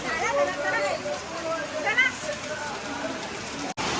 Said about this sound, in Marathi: पाऊस बघा किती आहे फुल पाणी आहे